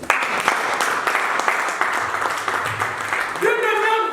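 Church congregation applauding during a sermon, a steady dense wash of clapping that runs the whole time, with a voice rising over it toward the end.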